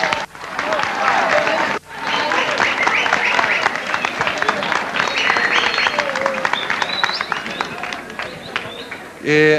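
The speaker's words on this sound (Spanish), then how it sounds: "Aplaudan, claro que sí." An audience at a talk on teen suicide breaks into loud applause, dense and sustained, with a brief dip early on, voices and a few cheers mixed into the clapping.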